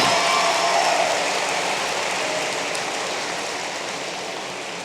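Audience applause at a Metro Tech completion ceremony in 2012: a dense, steady wash of clapping filling the room, loud at first and slowly fading, with no talking.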